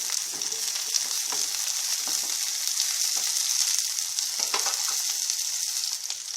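Onion with carrot and sliced vegetables frying in a pan for a North Karnataka style barta, a steady bright sizzle that holds even throughout with faint stirring scrapes and no voices.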